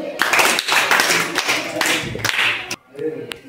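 Children clapping in a maths classroom activity, a burst of quick, close, uneven claps over a few seconds, with a brief pause and a voice near the end.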